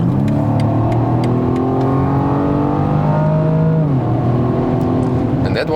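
A BMW M135i (F40) engine revs hard and climbs in pitch accelerating from 80 to 140 km/h, briefly dropping at a gear change before rising again, heard from inside the cabin.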